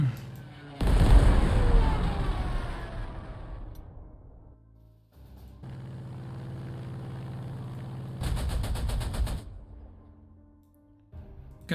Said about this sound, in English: Stuka, we can use Stuka to attack this artillery